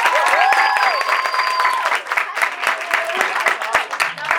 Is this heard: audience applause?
yes